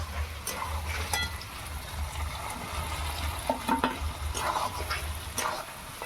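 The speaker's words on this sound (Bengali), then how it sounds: "মাংসটা কিছুক্ষণ কষে নেওয়ার পর আমি কুচনো টমেটো দিয়ে দিচ্ছি।" Chicken pieces for Bihari chicken sizzle steadily in a hot pan, with intermittent scraping and clinks as the meat is stirred, fairly close and continuous with no talk.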